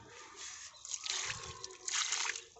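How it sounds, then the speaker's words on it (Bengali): Water pours onto a dragon fruit plant's soil after fertilizer is applied, giving a soft, faint splashing trickle in two gentle surges. "সার দিয়ে দেওয়ার পরে এইভাবে জল দিয়ে দেবেন"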